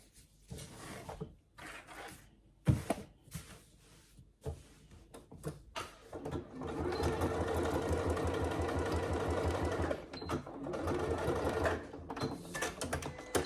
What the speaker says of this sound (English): you're going to sew from the second mark to the end